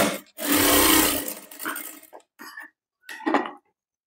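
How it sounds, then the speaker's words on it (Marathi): A sewing machine stitches a blouse at close range, running in a loud whirring burst and then in short, stop-start runs separated by silences. "वरच्या बाजूने शिलाई मारायची."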